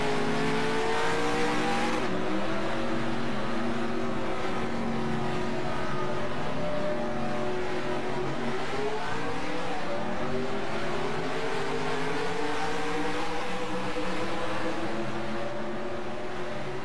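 Video game race cars roar at full throttle, running backwards into a big crash and shedding parts, with sustained engine whine, shifting revs and tire squeal throughout, no voices.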